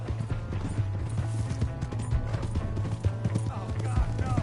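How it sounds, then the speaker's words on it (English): Horse hooves clip-clopping in a rapid, steady rhythm in Red Dead Redemption 2, up close and fairly loud over a low droning hum and a busy game mix, with a brief whinny near the end. "Hey, that's my horse!"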